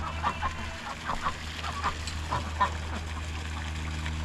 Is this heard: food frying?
no